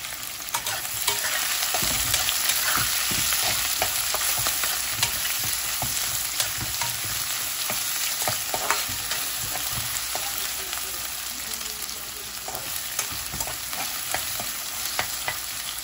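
Two medium onions frying in oil for a duck meat curry, a steady broadband sizzle with scattered stirring scrapes and clicks running close and continuous throughout, no voices.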